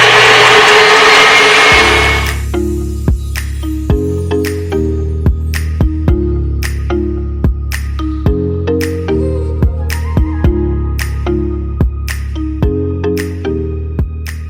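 A hand mixer fitted with a whisk whips instant coffee, sugar and hot water into a frothy dalgona topping, a steady motor hum with a tonal drone and regular clicks of the beaters knocking the bowl, following a brief loud rush at the start.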